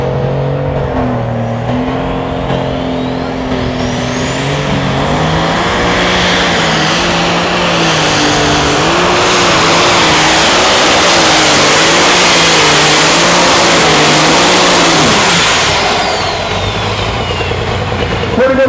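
A lightweight super stock pulling tractor roars down the track at a tractor pull in Hillsboro, Wisconsin, its loud, sustained engine climbing in pitch and holding a heavy, steady drone for most of the run before easing off near the end.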